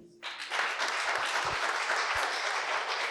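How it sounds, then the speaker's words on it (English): An audience bursts into applause after a speech on AI and UN development goals, clapping starting abruptly and holding dense and steady to the end. "Wow, you invited a round of applause."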